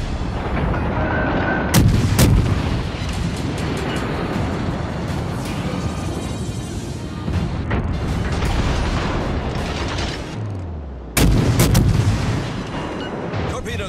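Warship guns fire in the naval game World of Warships: Legends, with several loud, sharp booming blasts spread over a constant rumbling mechanical and sea background.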